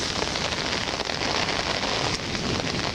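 Heavy rain drums on a huge umbrella under overgrown trees during a windstorm, a dense, steady patter close overhead with no pauses and no voices.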